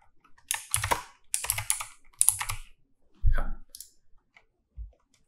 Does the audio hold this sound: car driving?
no